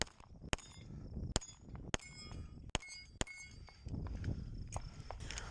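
Pistol shots from a MAC DS-9 at a shooting match strike knockdown steel targets, giving about six sharp metallic clangs at uneven intervals, faint and somewhat distant.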